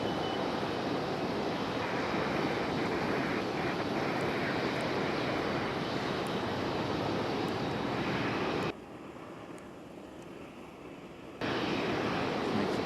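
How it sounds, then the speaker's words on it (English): United Airlines Boeing 737 jet engines rumbling steadily at Raleigh Durham International as it lines up on runway 5 left, a broad distant roar that drops away briefly before returning. "United Airlines and the 737 about to line up on 5 left"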